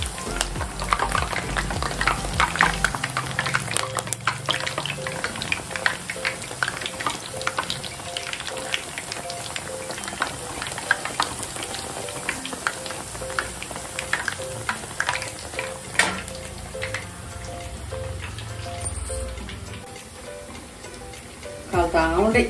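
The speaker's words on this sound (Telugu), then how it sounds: "కాలుతా ఉండే గారెలు." Garelu, lentil fritters, frying in hot oil for an evening snack, a steady dense sizzle and crackle that runs throughout with occasional stirring clinks, loud and close.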